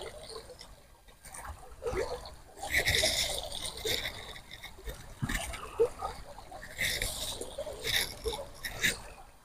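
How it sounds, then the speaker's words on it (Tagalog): A strong water current flows and splashes outdoors, a rushing, gurgling wash with irregular surges, fairly close, mixed with faint background sounds. "lakas ng agos"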